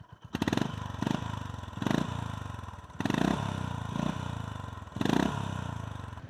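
A Honda GB350S motorcycle single-cylinder engine fitted with a DNA air filter idles nearby with a loud, steady thumping note, blipped up in several short revs that rise and fall.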